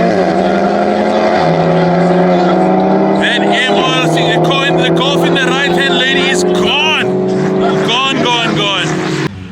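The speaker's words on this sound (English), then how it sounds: "MR Performance Golf 7 up against the S3, the Quattro. Let's see what it does." A Golf 7 tuned by MR Performance races an Audi S3 Quattro at a drag-racing event, their engines roaring loud and close with climbing revs and sharp gear-change breaks throughout.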